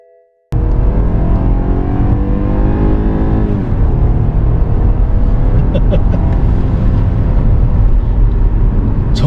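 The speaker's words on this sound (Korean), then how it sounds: "4기통 같은 소리가 납니다." A BMW 520i four-cylinder in sport mode revs hard from inside the cabin, a loud, steady engine drone that climbs in pitch for several seconds before levelling off.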